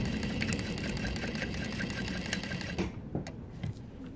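A Juki DU-1181 walking foot sewing machine with a power saver motor runs at a steady, dense mechanical whir, close and loud, then falters and stalls near the end, leaving a few scattered knocks and clicks.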